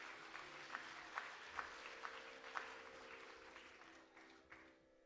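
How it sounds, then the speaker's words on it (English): Audience applause following a Bharatanatyam arangetram dance performance, steady clapping from a seated crowd with a few sharper claps standing out, gradually tapering off toward the end. "give her another round of applause"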